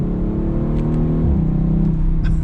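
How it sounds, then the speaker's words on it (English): Audi RS5 engine revving hard, a loud steady drone with a shift in pitch partway through as it pulls, no voices over it. "I love the way this car sounds"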